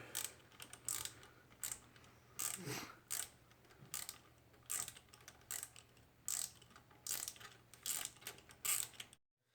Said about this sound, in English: taking off the 4 bolts that hold the turbo, so we can get to the bolts of the manifold